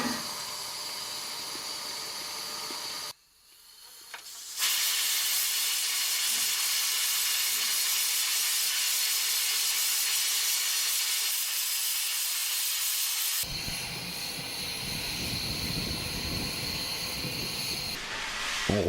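A 141R steam locomotive, the last steam engine in SNCF service, lets out a loud sustained hiss of steam that cuts off briefly, then roars back steadily, with a harsher, rougher burst near the end.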